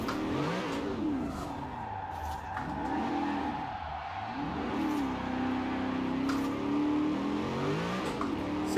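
A car engine in the racing game Forza Horizon 4 revs and accelerates repeatedly, its pitch sweeping up and down through gear changes with tire skids and squeals, loud and continuous without talk.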